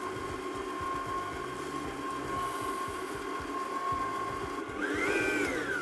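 An electric mixer whirs steadily as ganache is beaten into chocolate cake batter with dried fruit, a constant motor drone with a faint rhythmic beater churn that rises in pitch near the end.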